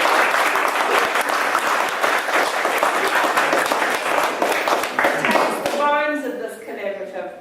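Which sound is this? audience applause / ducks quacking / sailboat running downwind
audience applause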